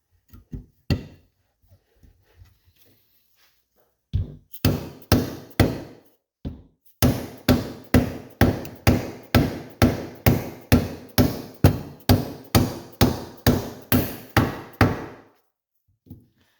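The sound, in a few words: hammering crank bearings into engine case halves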